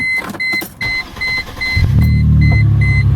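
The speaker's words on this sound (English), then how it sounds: "Starts up just fine." A Mercedes-Benz C280 Sport with about 112,830 miles starts: a few short starter-motor whirs, then the engine catches at about two seconds and settles into a loud, steady idle rumble. No one speaks.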